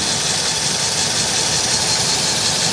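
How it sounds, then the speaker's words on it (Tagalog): A small engine fitted with a new contact point idles steadily and evenly, a close, constant rumbling hum with a faint rattling vibration and no misfires. "Consistent na yung galaw ng makina."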